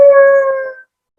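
At a puppet theatre show, a single loud, steady howl in imitation of a dog rings out close and clear for under a second, then cuts off to silence; a voice imitates the sound.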